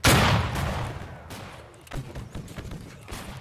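Gunfire crackles through a large multiplayer Gettysburg battle in the Battle Cry of Freedom video game, opening with a loud burst and then continuing as a rolling, uneven volley of shots at varying distances.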